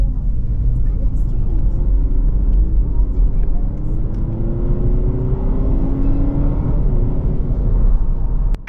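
Cabin view of a Honda Civic e:HEV hybrid accelerating in sport mode: a steady, loud low engine and road drone with a rising tone sweeping upward as it gains speed.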